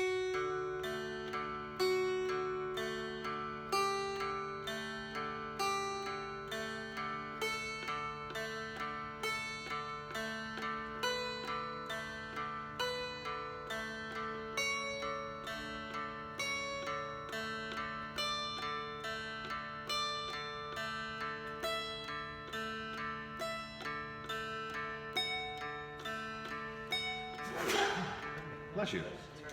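A mountain dulcimer plays a chord exercise with the melody string moving over steady drone strings, strummed in an even, unchanging rhythm for nearly thirty seconds. A sudden sharp burst, like a sneeze, sounds near the end.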